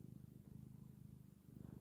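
A cat purrs steadily and close, a low rhythmic rumble with regular breathing pulses running unbroken and alone, with no talk over it.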